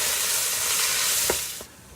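Ground turkey browning in a Ninja Foodi pot gives a steady close hiss of frying, with a couple of brief stirring scrapes near the end as the sizzle drops away.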